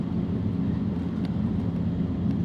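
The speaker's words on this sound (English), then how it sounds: "Yeah, so this is a really torquey 4-cylinder engine." Steady, loud low-frequency drone of a Ford Focus RS with a tuned 2.3-liter turbocharged four-cylinder engine running about 28 psi of boost, heard from inside the car as a continuous rumble with no talking.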